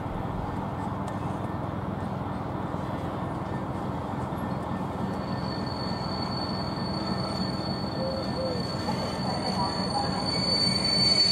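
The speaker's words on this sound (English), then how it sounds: "Here, Freightliner Class 66, 587 heads into the loop with a short tanker train." A Freightliner Class 66 diesel locomotive hauls a short tanker train into the loop at Ely on a cold day, a steady rumble of wheels and wagons with a thin high squeal growing slightly louder toward the end.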